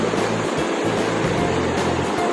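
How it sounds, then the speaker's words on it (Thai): Water pouring steadily over the lower section of Sapan waterfall in a lush forest at Ban Sapan, Bo Kluea, Nan, heard as a loud, continuous broadband rush close by, with no talking. "อันนี้เป็น ด้านล่างน้ำตกสปันนะครับ"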